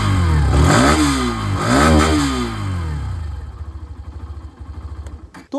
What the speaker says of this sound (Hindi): दोनों की ही जो एग्जॉस्ट साउंड है वो मैं आप लोगों को सुना दूँ